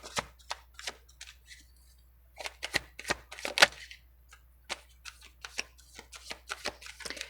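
Tarot cards are shuffled by hand in close, crisp bursts of riffling and flicking, separated by short pauses, with one sharper snap midway and no voices.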